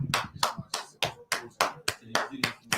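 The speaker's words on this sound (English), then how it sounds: "Let's clap for them." A single person claps steadily for a football team after Nigeria's 4-0 match against Benin Republic, about nine sharp, evenly spaced hand claps close to the mic with faint talk underneath.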